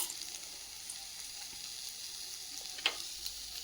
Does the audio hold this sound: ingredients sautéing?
yes